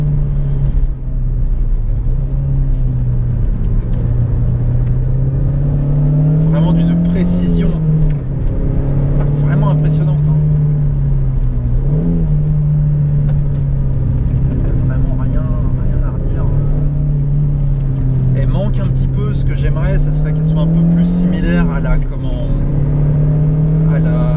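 A 2005 Renault Mégane RS engine drones steadily while driving on an open road, its pitch rising and falling gently with throttle. Someone talks over the engine throughout.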